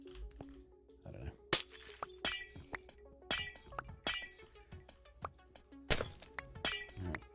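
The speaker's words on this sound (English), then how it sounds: "I'm going to get real bored of hearing that breaking glass" Glass blocks break over and over in Survival Minecraft, each one a crisp shattering crack. They come in an irregular series of several breaks over a quiet background with faint thuds and clinks between them.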